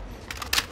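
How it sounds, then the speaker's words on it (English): A weapon magazine is swapped in Modern Warfare during a Hardpoint match on Grazna Raid, a short pair of close mechanical clicks and a sharper snap as the mag seats. "Changing mags."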